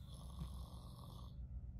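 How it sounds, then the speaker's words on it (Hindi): Snoring from a sleeping character in the horror game Granny Chapter 3, a quiet, low rumbling breath heard faintly in a steady drone. "खर्राटे की आवाज़ आ रही है मुझे"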